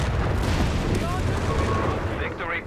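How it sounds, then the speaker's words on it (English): Mortar explosions rumble through a Company of Heroes 3 battle, a steady low, booming roar of blasts with a voice talking over it. "Taking a lot of damage out of the mortar."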